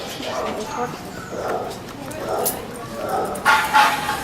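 Dogs in an animal shelter kennel bark in a run of repeated woofs, fairly close, with a louder burst near the end, heard among general kennel noise.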